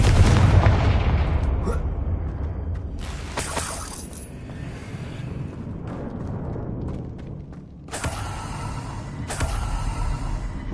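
A Confringo blasting spell explodes in a wizard video game with a heavy rumbling boom at the start. Further bursts and crackling blasts follow over a continuous loud game soundscape.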